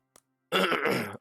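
A man clears his throat close to the microphone in one rough, raspy burst after a brief click, in an otherwise quiet room.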